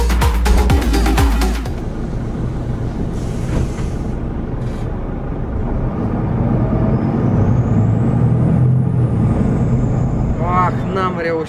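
A city bus pulls away with its air brakes hissing and its engine rumbling steadily nearby. People talk over the loud traffic noise throughout.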